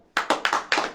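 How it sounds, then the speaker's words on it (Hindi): Clapping from a group at a church gathering: several quick, close bursts of hand claps in an uneven rhythm over about a second, loud and crisp with no voices. "ताली बजाओ।"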